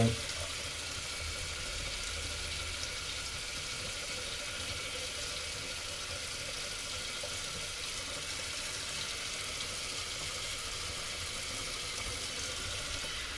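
Tap water runs steadily into a sink while a straight razor is rinsed under it, a close, even hiss and splash lasting over thirteen seconds with no pauses.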